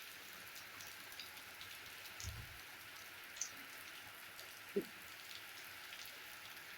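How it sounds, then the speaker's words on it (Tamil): Rain falling steadily in a village setting, a soft even hiss throughout with a couple of faint brief knocks and no voices. "செம்ம மழை."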